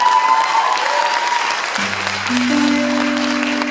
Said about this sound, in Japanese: 大きな拍手ください